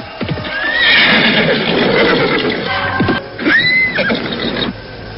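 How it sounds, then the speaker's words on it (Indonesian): Galloping horse hooves and loud neighing in a radio drama scene set on a roadside, with rhythmic clip-clop beats under two drawn-out whinnies, close and prominent. "mendengar derap kaki kuda mendekat"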